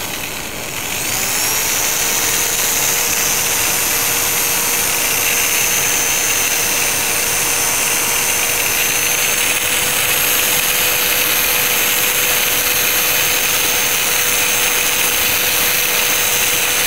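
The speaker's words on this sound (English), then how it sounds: "That's working pretty good, and it gives it a pretty even, you know, sanding overall." A loud, steady machine whine drones continuously as sandpaper sands a resin bowl spinning on a woodturning lathe, a high tonal hum and broadband hiss, no voices.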